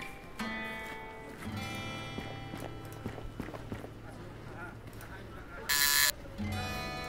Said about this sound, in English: A buzzer.